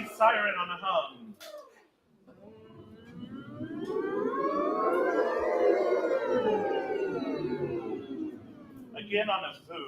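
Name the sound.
voice imitating a siren on a hum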